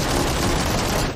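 Gunfire from a battle-royale shooter video game, a dense burst of rapid automatic shots packed tightly together, loud and close, with no speech.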